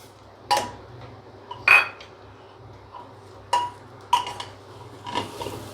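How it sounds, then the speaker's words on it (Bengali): Frozen green peas tipped into a frying pan and stirred while cooking Govindo Bhog khichdi, giving a few sharp metallic clinks and scrapes of a utensil against the pan, close and spaced apart, with a faint sizzle underneath and no talk. "দর্শক বন্ধুরা, এবার আমি এর মধ্যে মটরশুঁটিটা দিয়ে দেবো।"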